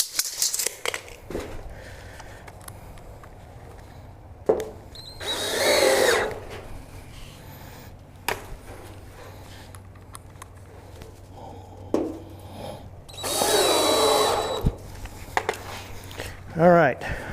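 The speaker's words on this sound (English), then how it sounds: "I've almost got all the posts screwed in." A power drill drives screws into wooden posts for a raised garden bed in two loud, close bursts of a few seconds each, separated by quieter handling noises and a faint background hum.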